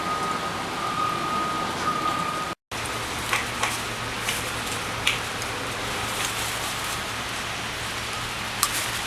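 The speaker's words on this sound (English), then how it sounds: "it's raining again." Steady rain falling outdoors on flat open ground, a continuous hiss of drops with occasional sharper taps, a brief dropout partway through, and a faint low hum in the background.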